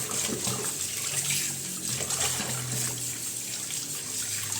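Steady running water splashes continuously, like leaves being rinsed under a flowing tap, fairly close with no voices.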